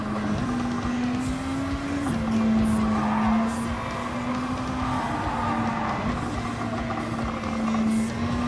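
A race car in a racing game, with a steady, sustained tire squeal held over a continuous engine and road roar through a turn. The pitch steps once early on and then drifts slightly.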